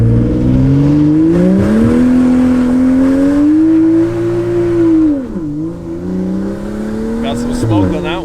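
BMW F30 335i running on E85 fuel accelerating hard, a loud close engine note climbing steadily through the revs, dipping at a shift, then pulling again, with tire noise and people talking over it.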